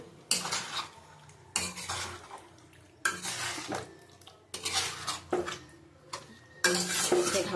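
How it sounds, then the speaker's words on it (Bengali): Chicken chaap is stirred and mixed in a pan, heard as six distinct bursts of scraping spoon-on-metal stirring, each a second or so long and separated by short pauses, close up with no talking. "একটু ভালো করে মিক্সিং করে নিতে হবে"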